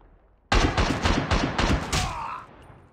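Rapid bursts of gunfire from the mobile shooter Call of Duty Mobile open abruptly and keep coming in a loud, close string of about six shots, then fade into a short tail.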